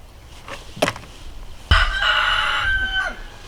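A rooster crows loudly and close by, one long drawn-out call. Shorter clucks from chickens pecking around indoors come just before it, over a quiet background.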